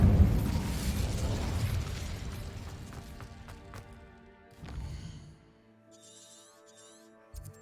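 Incendio fire spell cast in Hogwarts Legacy, a loud burst of flame that rumbles and fades over a few seconds, followed by a smaller whooshing flare and a sharp final crack.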